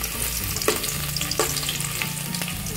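Garlic frying in a pan for Khmer amaranth soup gives a steady, close sizzle throughout, with a few soft stirring taps and no voices.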